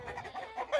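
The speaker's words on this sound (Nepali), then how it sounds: "यो लोकल कुखुरा चाहिँ मेरो फर्ममा रहेको लोकल कुखुराहरू हो" Local hens and red roosters on a Nepali poultry farm cluck in short, close, overlapping calls, a brief run of clucking with no talk.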